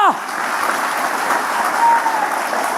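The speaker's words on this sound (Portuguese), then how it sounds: "Se é para aplaudir, aplaude de verdade." Church audience bursting into loud sustained applause after a worship song, dense clapping filling the room with a faint tone ringing through it.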